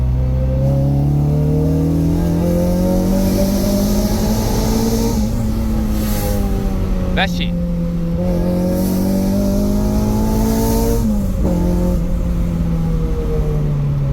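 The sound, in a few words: Honda K24 engine car accelerating in a pull test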